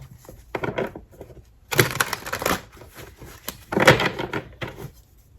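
Card shuffling up close: a few bursts of riffling and rustling paper, separated by brief pauses, with no one talking.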